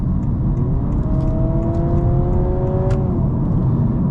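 Honda Civic hybrid accelerating hard, with a simulated engine roar piped through the cabin speakers: a steady broadband hum with rising tonal whine lines climbing through the run, continuous and close.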